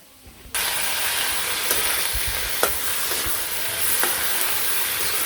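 Vegetables fry steadily in a pan in a village kitchen, with a loud continuous sizzle that starts abruptly and occasional scraping clicks of a spoon stirring, close and without any talking.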